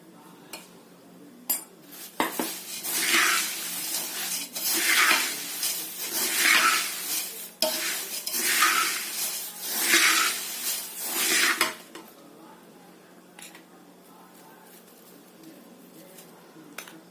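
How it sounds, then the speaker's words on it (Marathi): Gulmohar chivda being stirred with powdered sugar in a pan, with repeated scraping and rustling strokes for about ten seconds, close and fairly loud, then quieter clinks. "पिठी साखर अगदी थोडं थोडंसं घालून पूर्ण मिसळून घ्यायचंय"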